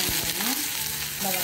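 Mustard seeds and chopped onion fry in hot oil for a bitter gourd dish, giving a steady close sizzle with crackles and the scrape of stirring throughout.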